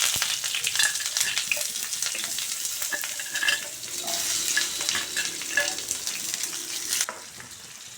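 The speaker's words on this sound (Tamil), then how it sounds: "அடுப்பில் ஒரு பேன் வச்சு அதில் எண்ணெய் ஊற்றிருக்கிறேன். அதில் முதல்ல இந்த வெங்காயத்தை போட்டுடலாம்." Onions frying in oil in a pan on a stovetop, a steady close sizzle with occasional stirring scrapes, loud and continuous with no talking until it eases slightly at the end.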